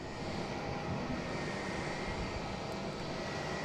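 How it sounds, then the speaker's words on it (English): A JetBlue airliner being pushed back at Boston Logan airport gives off a faint, steady engine hum and rumble, unbroken over the short stretch with no voices. "this JetBlue backing up here"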